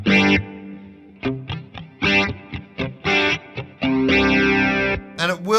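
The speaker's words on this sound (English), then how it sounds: "So the first one I set up was just a chorus by itself." An electric guitar played through a Sonicake Pocket Master chorus effect, loud choppy strummed chords with short stabs and a few sustained swirling notes, no voice present.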